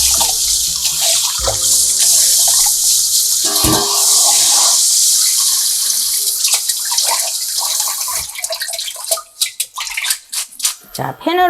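Cold tap water runs steadily over freshly boiled noodles being rinsed, a loud continuous hiss and splash that thins into intermittent splashes and drips near the end.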